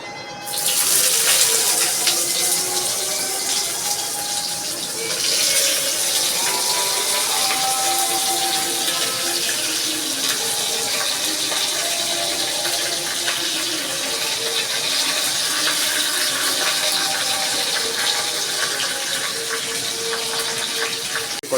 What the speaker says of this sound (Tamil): ஆனியன் வந்து ஃப்ரை ஆகிடுச்சு